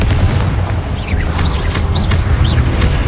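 A Confringo blasting curse explosion in Hogwarts Legacy, a heavy sustained low boom and rumble with whooshing, chirping magical effects layered on top.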